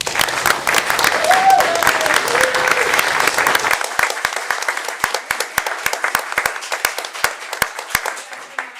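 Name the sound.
council meeting audience applause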